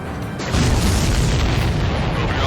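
A supply ship explodes in the flight combat video game Ace Combat 7: Skies Unknown: a sudden heavy boom followed by a sustained, loud, rumbling roar.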